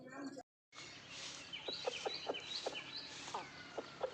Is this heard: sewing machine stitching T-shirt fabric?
no